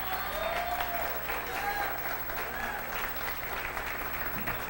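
Congregation applauding women during a church worship service, dense clapping filling the room with scattered shouts and voices mixed in.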